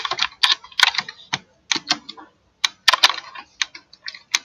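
Fingers typing on a computer keyboard while entering data into MS Access, quick bursts of crisp key clicks with brief pauses between them, close and clear, with no talking.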